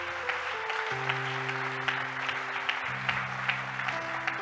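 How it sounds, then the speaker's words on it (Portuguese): A church congregation claps steadily and fairly loudly at a sermon, with sustained organ or keyboard chords underneath. "Você pode aplaudir bem forte a Jesus"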